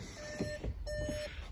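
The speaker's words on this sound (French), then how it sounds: "Donc là j'ai le contact, ça bip un peu." A 2021-era VW Polo 1.0 TSI 95 hp chimes with the ignition on, two soft electronic beeps in a row, each held for a moment, faint against low cabin noise.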